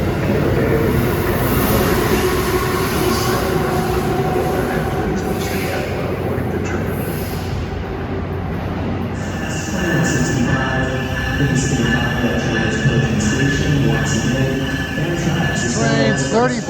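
An outbound NJ Transit commuter train to High Bridge rumbles and squeals at Newark Penn Station, its low mechanical drone and shifting metallic tones continuing under a busy station ambience.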